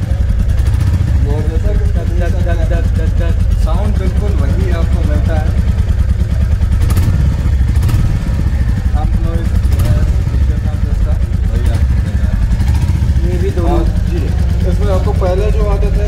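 A 2023 Royal Enfield Bullet 350 with a J-series engine runs loud and close, a steady thumping idle throughout with someone talking over it.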